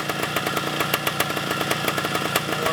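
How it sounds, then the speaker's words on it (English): A 1972 Yamaha RT2 360 two-stroke motorcycle riding down the road, its engine a loud, buzzy, rapidly pulsing drone close to the mic, steady throughout with no talk. "I will take this down the road quick just so you can see and hear the bike moving"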